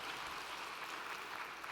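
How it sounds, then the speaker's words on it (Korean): Faint, distant applause from a church congregation celebrating a retirement ceremony at a dedication service; soft, even clapping fills the whole moment without a break. "우리 축하의 박수 하겠습니다."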